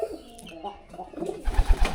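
Pigeons in a rooftop coop with chicken pens below coo softly, low murmuring calls stacking up toward the end, close by and fairly quiet.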